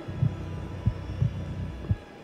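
Slow, steady heartbeat thumps from the horror game The Outlast Trials, a deep throbbing pulse repeating roughly every half second over a low ambient hum, with no talk.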